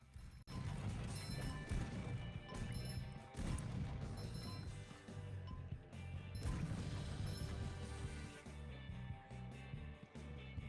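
Chaotic smashing and crashing from the SpongeBob Battle for Bikini Bottom video game, with repeated mechanical clanks, whacks and breaking impacts layered over busy game music, loud and steady throughout.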